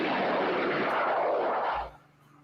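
A British Army aviation aircraft roars past as a steady, loud broadband engine rush that holds for nearly two seconds, then cuts away to a faint hum.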